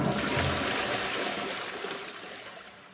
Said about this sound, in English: Flushing you down the toilet.